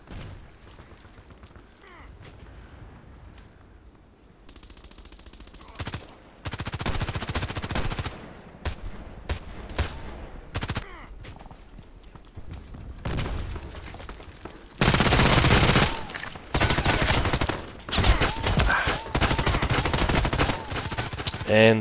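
An H&K MP7 submachine gun fires in the video game Contract Wars: a few short bursts at first, then rapid, loud bursts and a long sustained stretch of automatic fire, with gaps between the volleys.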